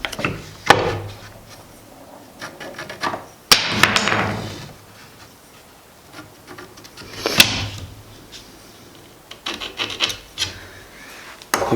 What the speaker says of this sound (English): So we'll cut some nocks in the end and get the tillering string on it.